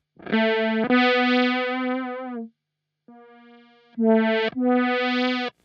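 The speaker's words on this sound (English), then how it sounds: "So this is the filter, as in filter opening up and closing." Sustained guitar notes through a Meris Enzo envelope filter, a sweeping tone that opens and closes, played in a few held phrases with a short pause between.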